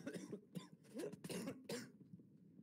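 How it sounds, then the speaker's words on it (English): A person coughing on a sailboat during a race: a quick series of four or five harsh, rough coughs and throat-clearing bursts, near but recorded faintly. "I've had this cough for like 3 weeks"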